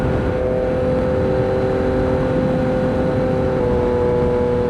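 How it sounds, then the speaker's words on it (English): Yamaha MT-09 motorcycle with clip-on handlebars cruising on the road, its exhaust a steady droning engine hum with constant wind rush, heard from the rider's position without any change in pace. "Maybe this helmet isn't blocking out the exhaust noise as much."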